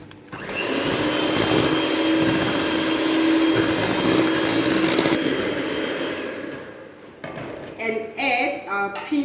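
An electric mixer whirs steadily through banana loaf batter for about seven seconds, loud and close with a faint tonal hum, then stops, followed by a few clinks and a voice speaking.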